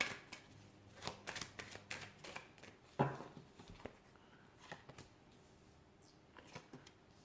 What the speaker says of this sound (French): Je vais juste tirer quelques cartes de l'oracle de la triade pour avoir plus de précision pour le groupe